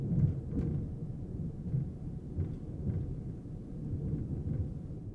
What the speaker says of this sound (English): the second I took that picture, lightning struck outside.